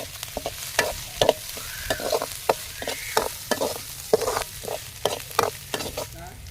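Tempering (oggarane) for sambar in a village-style kitchen sizzles in a pan with a spitting crackle, broken by sharp clinks and scrapes of a spoon stirring, close and lively, with no talk.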